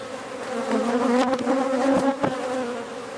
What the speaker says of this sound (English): A lot of bees on here.